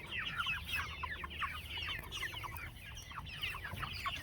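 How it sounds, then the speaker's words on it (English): A flock of pasture chickens in a chicken tractor cluck continuously, a busy overlapping chatter of soft calls heard fairly close over a faint outdoor background. "All right, well, those are our birds."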